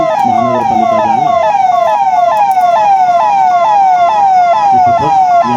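Jalna municipal fire brigade vehicle blares a loud, steady rising-and-falling electronic siren as it moves in a state formation day parade, close by, with low engine rumble underneath.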